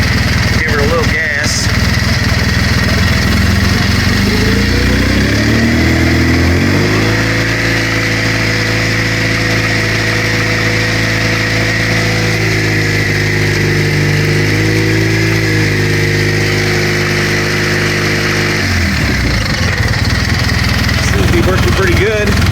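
A small engine runs steadily after a new drive belt goes on, held in high gear with the throttle opened a little, a loud sustained hum with a short rev near the start and the end, and a voice speaks briefly over it.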